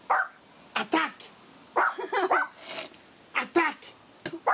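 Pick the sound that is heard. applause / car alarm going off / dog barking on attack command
dog barking on attack command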